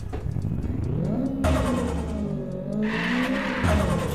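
A tuned Toyota Trueno AE86 in a racing video game revs and accelerates through gear changes, engine pitch rising and falling repeatedly with tire squeal, loud and close.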